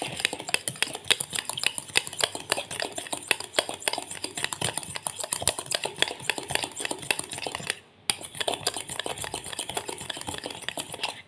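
A fork whisks dalgona coffee mixture in a cup, making rapid, continuous clinking and tapping strokes against the sides, with a brief pause near the end before the quick rhythm resumes.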